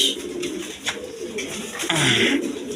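A pair of white Bombay pigeons coo softly close by, with low throaty murmurs amid faint background rustles and clatter.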